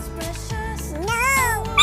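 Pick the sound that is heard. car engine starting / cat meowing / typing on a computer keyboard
cat meowing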